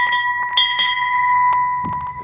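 A bell rings with a sustained, clear tone that hangs through the whole moment, struck again a few times over faint background clatter, fairly close and steady.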